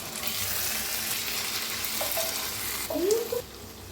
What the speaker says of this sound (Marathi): मिक्स करूया एकदा.